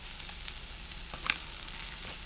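Fish fries in a pan with oil, giving a steady close hiss and crackle, with a few sharper pops and spits rising over the even sizzle.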